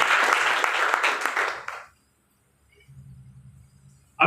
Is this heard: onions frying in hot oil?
no